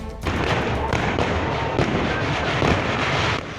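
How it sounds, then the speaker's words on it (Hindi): A dense, continuous crackle of firecrackers and gunpowder fireworks pops and bangs in rapid succession at a Holi celebration, loud and close, with a faint voice in the background. "फिर जमकर बारूद और पटाखों से होली खेलते हैं"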